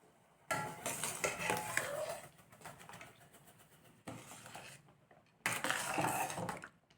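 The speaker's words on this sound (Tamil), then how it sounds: "இப்போது ரவையை சேர்த்துடலாம்." Semolina poured into a pot of boiling water and stirred while making rava pongal, with bursts of scraping, clinking pot-and-spoon noise in two stretches separated by a quieter pause; no talking.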